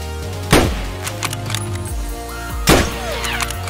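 Gunfire in Escape from Tarkov: two sharp, loud shots about two seconds apart, each with a ringing tail, over low rumbling game ambience.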